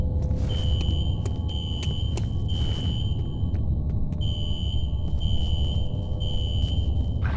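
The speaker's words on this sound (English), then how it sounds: "A fire alarm. It was triggered at a security office on that floor." A fire alarm triggered in a security office in the video game F.E.A.R. sounds as a repeating high electronic beep in regular bursts over a low, constant rumble, with no talking.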